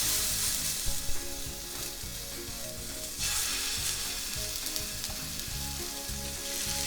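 Pork tenderloin medallions sear loudly in a very hot pan, making a continuous close sizzle and crackle with small clatters and no talking.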